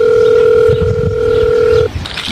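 A telephone dial tone sounds during a phone call, one loud, continuous steady tone that holds for almost two seconds and then cuts off abruptly.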